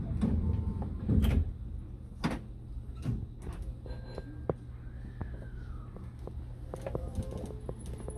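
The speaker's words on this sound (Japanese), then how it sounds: "扉が閉まります。" Osaka Metro Chuo Line train doors sliding shut at a station, a few knocking thuds and a rolling clatter over steady station hum, followed by faint chimes and beeps.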